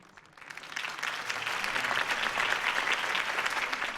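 Applause from a crowd in the video game Batman: The Telltale Series swells up quickly and holds as a dense, steady wash of clapping throughout.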